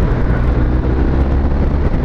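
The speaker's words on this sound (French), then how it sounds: "Échappement d'origine parfait, c'est discret, même haut dans les tours il se fera pas remarquer." A BMW R1250 R motorcycle running on its stock exhaust gives a steady, dense low engine drone, close and continuous for the whole stretch, with no voices.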